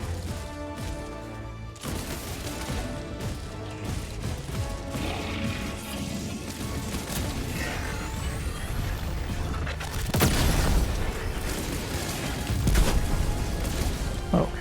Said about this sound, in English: Okay, that was quite the explosion,